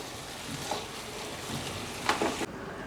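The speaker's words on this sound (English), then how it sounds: "After you add the mangoes, give it a mix." Chicken dhansak with raw mangoes being stirred in a pot, a soft sizzling and scraping under a faint steady hiss, with a couple of sharper spoon scrapes near the end before it cuts quiet.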